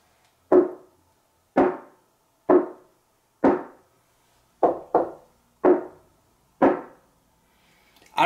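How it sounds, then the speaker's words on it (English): A fist knocks against the side wall of a speaker cabinet: eight sharp, hollow, ringing thuds, one quick double near the middle, each decaying quickly into silence, close and fairly loud with no talk. "When I knock the side of this cabinet wall with my fist, the cabinet sounds extremely hollow and I can hear it ringing."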